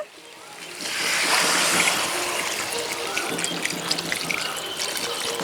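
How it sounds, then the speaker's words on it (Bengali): Water pours steadily into a pan of simmering jackfruit and prawn curry, a loud close rushing splash that builds quickly and then settles into a continuing gurgling sizzle. "জল দিয়ে দেব।"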